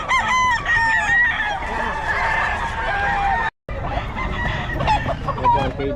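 A rooster crows loudly and close at a market in Bocaue, with long strained calls and clucking from other chickens around it, amid steady crowd noise and a brief dropout partway through.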